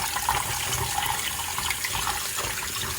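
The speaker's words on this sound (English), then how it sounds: "I'm washing the rhubarb now." Tap water splashes into a sink as rhubarb gets a rinse, a steady close hiss of running water with small shifting splashes.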